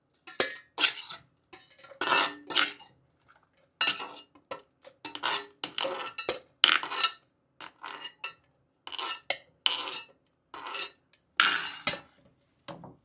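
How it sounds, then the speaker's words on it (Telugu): Ingredients being tipped and scraped into a mixer grinder jar, heard as a close series of intermittent metallic clinks and rattling bursts of a spoon against steel, separated by short silences. "ఇంకా మిక్సీ జార్లో వేస్తాను"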